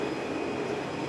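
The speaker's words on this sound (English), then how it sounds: "13-ton weight flywheel, 2 meter in dia, is getting rotated at 280 rpm after the motor is switched off" A 13-ton, 2-meter KAMMA gear flywheel spinning on at about 280 rpm with its motor switched off, giving a steady low rumbling drone with a faint whine, continuous and unbroken.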